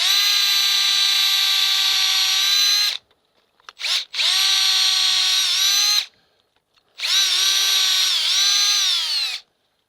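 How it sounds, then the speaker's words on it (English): Power drill boring a 10-degree tap hole into a maple tree for a sap spile, three long whining bursts close up separated by brief pauses, with no talk. "so we have to drill a hole"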